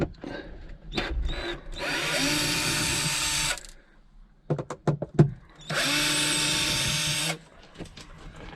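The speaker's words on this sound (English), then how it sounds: "I'm going to go around and unscrew all these fasteners" A power drill unscrews carpet fasteners inside a boat, running in two long whirring bursts with short starts and clicks between them, close and loud, no talking.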